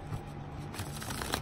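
Tarot cards shuffled by hand in a quick, soft riffle of papery flutters, close by and heard alone for a brief moment.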